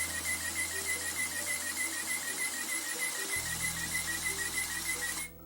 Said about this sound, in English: it starts pumping water into the cup